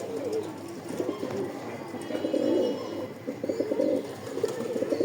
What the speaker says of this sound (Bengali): ভয় পাচ্ছে কবুতরটা, একটুতে ভট করে লাফায় উঠছে